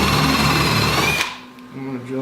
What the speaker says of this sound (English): I'm going to drill into my table,